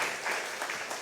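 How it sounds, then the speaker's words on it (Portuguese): A church congregation applauds during a revival service, with steady, dense clapping filling a short moment. "Vamos aplaudir os nossos irmãos,"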